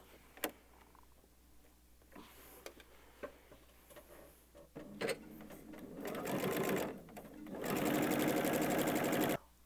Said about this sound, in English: Now we're going to run a stitch through our E, D, and our batting fabrics